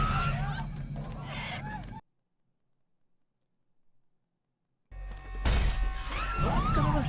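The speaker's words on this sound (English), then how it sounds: "it already cracked the glass" Glass cracking and shattering in a scene from the 2007 horror film The Mist, a loud breaking burst followed by silence, then more crashing noise with agitated voices over it.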